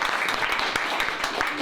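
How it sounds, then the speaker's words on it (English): A group of volunteers at Bannack ghost town in Montana claps in a short, dense round of applause, with some voices mixed into the clapping. "So let's give them a big round of applause."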